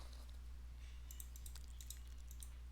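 Quiet keyboard typing with a short burst of light key clicks over a low steady hum, distant and faint, while entering an offset command.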